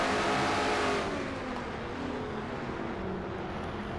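A race car engine at Martinsville in an oval stock-car racing video game, a loud sustained roar that eases slightly after the first second and then holds steady.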